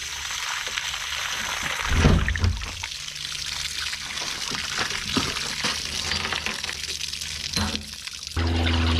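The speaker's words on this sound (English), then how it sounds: "You can see the water's really clean coming out of it now." Rinse water pours and trickles out of a fuel tank from an abandoned 1972 Plymouth Fury, a steady close splashing stream lasting several seconds, with no talking.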